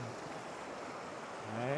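Water of the Mường Mô mountain stream flows in a steady broadband rush, fairly faint and continuous, with a brief voice-like tone near the end.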